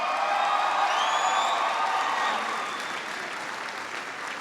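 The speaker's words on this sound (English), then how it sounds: "please give Staff Sergeant Randy Gray a big round of applause for the outstanding introduction" An audience applauds after an introduction at a speaking event about American service in South Korea, loud clapping with a few whoops and cheers at first, then easing slightly but continuing steadily to the end.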